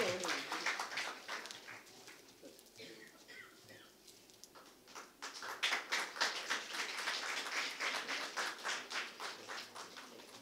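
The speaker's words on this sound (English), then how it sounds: "Please have a clapping for Dr." Audience applause at a book launch for a volume titled Reminiscence of America, a room full of people clapping steadily, swelling louder in the second half and carrying on throughout the clip.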